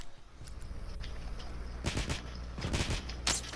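Gunfire in The Last of Us Remastered, a handful of sharp shots in quick bursts over a steady low background rumble, the loudest arriving near the end.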